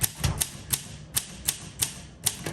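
Typing on a 1957 Olympia SM3 manual typewriter, with about eight crisp, close key strikes at a brisk, slightly uneven pace.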